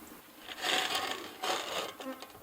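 Honey bees buzzing around a freshly split hive outdoors, a close, wavering drone that swells and fades in two or three passes as bees fly near.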